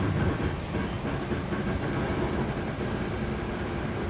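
Dhoho passenger train pulling into Sumber Gempol station in Indonesia, a loud, steady rumble and roar of rolling stock close by, with faint rhythmic wheel clatter running throughout and no talking.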